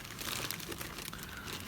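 A plastic bag crinkles and rustles close up while FPV goggles are unboxed from foam padding, a brief run of dense crackling handling noise.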